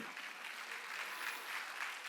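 Church congregation at a Sunday worship service claps steadily in soft, distant applause, a brief even wash with no voices over it.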